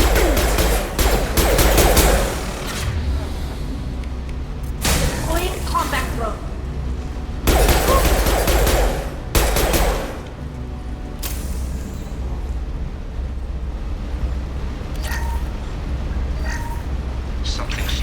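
Rifle gunfire in Mass Effect 2, repeated bursts of rapid shots in several bouts separated by quieter stretches, mixed with in-game voices and background effects.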